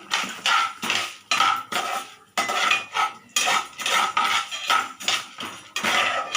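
Rhythmic metallic scraping and clinking of a utensil stirring asafoetida and spices frying in a pan for kara chutney, repeated strokes with brief gaps, up close and loud.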